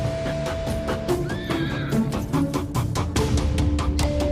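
A horse neighs and whinnies repeatedly, close and loud, over a dense, continuous wash of background noise with no talking.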